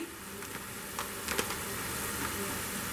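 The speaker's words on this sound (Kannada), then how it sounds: "ಹುಣಸೆಹಣ್ಣಿನ ರಸ ಸ್ವಲ್ಪ ಚೆನ್ನಾಗಿ ಕುದಿ ಬಂದಿದೆ" Tamarind juice with jaggery bubbles in a pan on the stove, a soft steady sizzle and simmer with faint pops throughout, heard close and alone.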